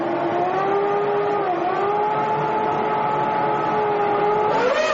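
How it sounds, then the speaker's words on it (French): Ferrari and Williams-Renault Formula 1 cars from the 1996 season pull away from the pits wheel to wheel, a steady high engine whine that rises in pitch near the end, loud and close with no talk. "La Ferrari et la Williams-Renault reprennent la piste roue dans roue"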